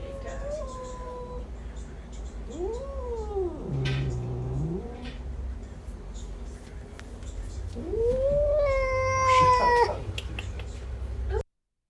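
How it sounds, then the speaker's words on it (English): A pet cat meows repeatedly from a phone voice note, with long rising-falling cries near the start and again louder toward the end, over a low background hum. "I have a voice note of my cat that I want to sample"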